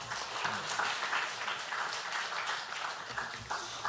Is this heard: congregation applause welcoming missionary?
yes